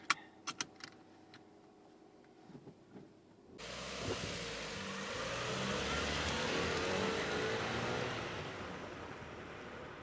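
Warmed-up Ford Fiesta Mk6 pulling away: a few sharp clicks and taps from inside the cabin, then a steady engine drone and road noise rising and holding as the car drives off.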